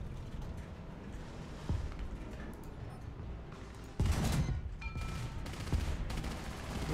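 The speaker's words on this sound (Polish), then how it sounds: "No to fajnie, że moja amunicja wybuchła" Low booms and rattling bursts erupt in a War Thunder tank battle, with a heavy blast midway as a tank's ammunition explodes, followed by crackling detonations.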